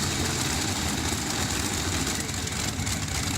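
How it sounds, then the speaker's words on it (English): An exhibition pulling tractor powered by three supercharged Ranger V12 aircraft engines burning methanol gives a loud, steady, dense engine roar that stays unbroken and close throughout. "a wild exhibition tractor powered by 3 Ranger V12 aircraft engines, force-fed by Procharger superchargers, and burning methanol alcohol fuel"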